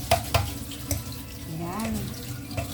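Bitter gourd washed under a running kitchen tap, a soft continuous splash of water with a few sharp knocks and clatters of handling at the sink.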